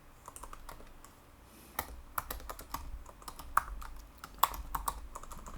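Keystrokes on a computer keyboard while JavaScript code is entered, irregular close clicks in short bursts with louder isolated taps, no talking.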